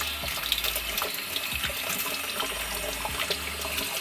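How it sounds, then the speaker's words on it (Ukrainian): Cold tap water runs steadily at a kitchen sink as salt is rinsed off cured pork, chicken and veal, a continuous hiss with small irregular splashes and clicks as the meat is handled. "Під проточною водою просто змиваєте."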